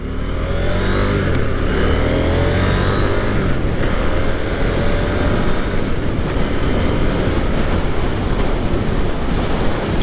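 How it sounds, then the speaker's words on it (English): A 2023 KTM 890 Duke R motorcycle being ridden, a loud continuous engine drone with rising and falling throttle and wind rush throughout, no talk. "This bike seems very smooth on and off the throttle."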